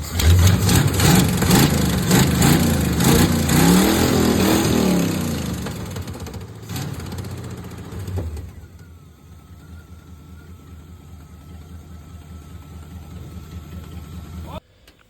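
A loud mud truck engine with its exhaust headers off runs rough and revs hard for several seconds, then cuts out, leaving a quieter whine and low rumble.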